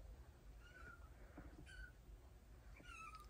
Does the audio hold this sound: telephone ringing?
no